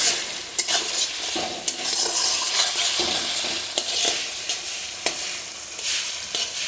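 Masala sizzles and fries in oil in a pan, with a steady hiss under repeated stirring scrapes and light utensil knocks against the pan, close and moderately loud, with no talking.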